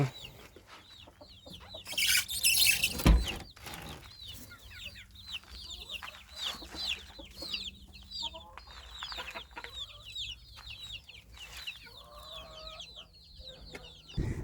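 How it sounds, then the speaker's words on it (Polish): Young hens cluck and chatter continuously nearby in a henhouse, with a louder burst of squawking early on and soft rustling underneath. "Tutaj mamy młode kurki, loczki."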